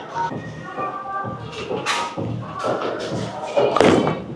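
A Ricochet bowling ball released and rolling down a lane, heard as a thud followed by a steady rumble with scattered clatter and knocks from a busy bowling alley, with faint voices in the background.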